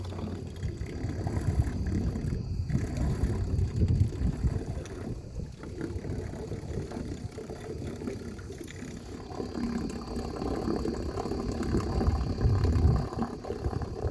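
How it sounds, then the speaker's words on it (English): Loud trolling motor pushing a houseboat across open water, a continuous low churning drone mixed with wind buffeting the microphone and water noise, steady throughout. "When I get a new trolling motor, it won't be so loud."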